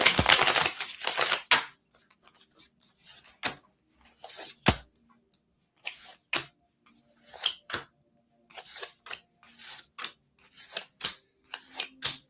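A brief burst of rapid tarot card riffling, then scattered crisp snaps and taps as the cards are handled and laid down one by one during a tarot reading, close up with no talking.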